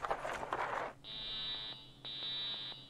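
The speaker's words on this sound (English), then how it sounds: "The fire alarm." A fire alarm goes off in two long, loud, shrill electronic tones separated by a brief gap, following a noisy rustling burst at the start.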